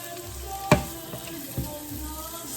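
Onions and mushrooms, browned, frying in a pan for chicken Marsala, a soft steady sizzle broken by a sharp clatter of utensil against the pan and a second lighter knock, no talking.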